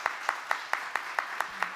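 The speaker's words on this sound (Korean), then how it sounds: "저희 박수로 한번 환영해 드릴까요?" A small group of people at a church service claps in a steady rhythmic beat to welcome a guest couple. About eight sharp claps fall at even intervals, each clear and close, with no talking over them.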